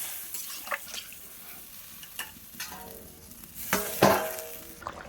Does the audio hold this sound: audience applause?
no